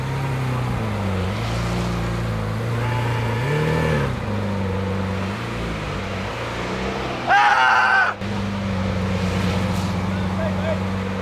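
A Lamborghini Aventador S engine idles and burbles deeply at low speed while parking, with a brief rising rev near the end; people talk over the rumble.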